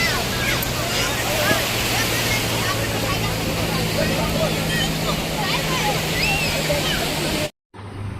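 Sea waves wash continuously on Goa beach, a broad steady roar of surf with wind noise, loud and close, ending in a brief cut.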